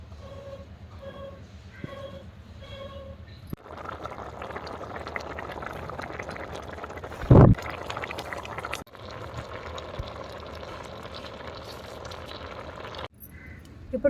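Chickpea curry bubbles steadily in a covered pot, a continuous close simmering hiss and gurgle with a brief louder clatter in the middle, after a short quieter stretch at the start.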